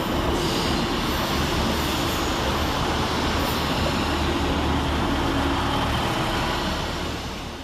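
Northern Class 150 diesel trains arrive at Bolton railway station in thick fog, a loud continuous rumble of rolling wheels and engines that stays steady close by and then eases slightly at the end.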